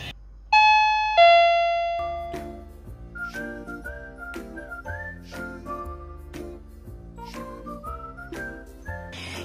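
A Japanese apartment intercom doorbell sounds two bright chime tones, then plays a short electronic melody of clear, ringing notes, loud and close with no voices.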